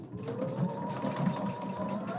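A sewing machine stitches darts in a dressmaking class, its motor running as a steady, continuous whir at close range with no pauses and no talk over it.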